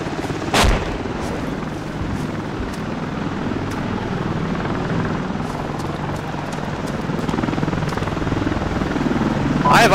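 Apache helicopter rotor drone fills a combat scene in the game ARMA 2, with a sharp blast of RPG fire near the start and scattered bangs later, continuous and fairly loud throughout.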